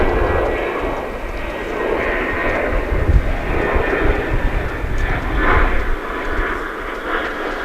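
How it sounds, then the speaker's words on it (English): A Boeing 777 jet airliner flying a Chicago Bears charter at DFW airport roars as it climbs out, a broad, rumbling engine drone heard from a distance that swells and fades in waves and carries on steadily throughout. "Here's the Chicago Bears charter on its way back to the north. 777. It's an aircraft"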